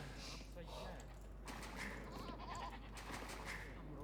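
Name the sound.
sheep bleating in video game Age of Empires II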